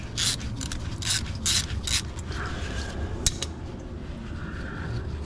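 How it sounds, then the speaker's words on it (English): A 10mm bolt is loosened on a Nissan CVT transmission with a close metallic ratchet that clicks in short bursts, then small tool taps and a single sharp knock over steady background hum. "We're gonna remove this 10mm bolt right here"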